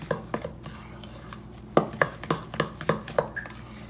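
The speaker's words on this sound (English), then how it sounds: "Now I like to stir a little bit before getting my hands dirty." Homemade fake snow mixture being stirred in a bowl, with irregular scraping at first, then a run of sharp, evenly spaced clinks and knocks against the container, close and fairly loud.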